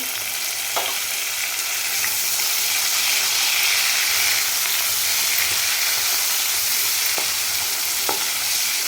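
Tomatoes and curry leaves sauté in a hot pan with a steady, loud sizzle and hiss, broken by a few faint stirring clicks, with no voices.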